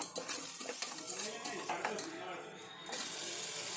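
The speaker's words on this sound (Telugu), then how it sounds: "కొద్దిగా అల్లం వెల్లుల్లి వేగిన తర్వాత పసుపు వేసుకోవాలి" Ginger-garlic paste fries in a pot for a country chicken curry, producing a steady sizzle with close scraping and stirring sounds, fairly loud and continuous, with a brief dip before the sizzle returns.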